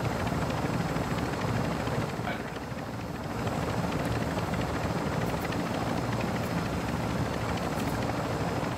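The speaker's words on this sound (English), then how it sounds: "Did they just take that helicopter?" Helicopter in the Call of Duty DMZ video game, a steady, loud rotor drone with a deep low rumble filling the whole stretch and briefly dipping around the middle.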